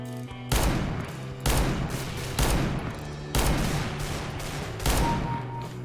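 Video game gunfire plays out in five loud, close bursts of rapid shots spaced about a second apart, with a steady background hum between them and no talk.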